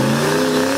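Turbocharged 4.6-litre V8 revving steadily, a loud close drone with a layered whir running alone through a short burst.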